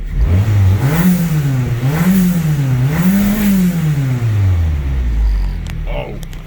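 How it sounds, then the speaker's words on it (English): A cold Mazdaspeed turbo engine revs up and down several times in a row, each rise and fall of pitch loud and close, before settling back toward idle. "let's see what a couple cold revs will do."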